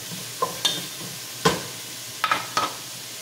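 Ginger browns in a pan for pork adobo under a soft, low sizzle, with a handful of sharp clinks and scrapes from stirring spread across a few seconds. No voices.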